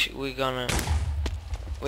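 A sharp whooshing launch followed by a heavy booming thud, a quick burst of Minecraft firework rocket noise lasting under two seconds.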